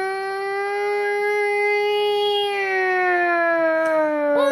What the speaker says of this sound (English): heard that siren before on a fire truck